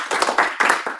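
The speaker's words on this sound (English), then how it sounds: "give another round of applause to our speakers" Audience applause at the end of a Q&A session of a London data talk, with a short, dense burst of close clapping from a room of listeners and no voices over it.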